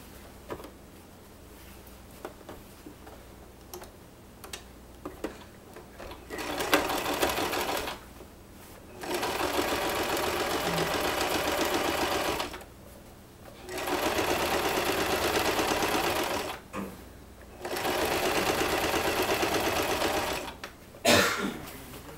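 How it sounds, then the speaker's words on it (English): A sewing machine top stitches the seams of a fishtail skirt in three long steady whirring runs, separated by pauses filled with quiet handling and faint room noise. "Now we're going to top stitch each one of the seams"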